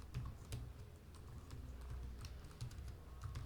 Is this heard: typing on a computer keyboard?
yes